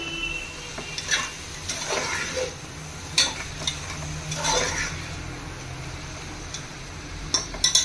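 Coriander is stirred into prawn pulao with a ladle, giving soft scraping and clinking strokes in irregular bursts, with a faint sizzle running underneath throughout.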